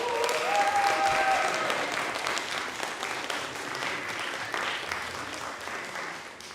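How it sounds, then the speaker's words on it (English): Audience applause at a youth media summit closing ceremony, a steady, full clapping that swells early and then tapers slightly over several seconds, with a faint voice or tone briefly audible near the start. "You all deserve another round of applause"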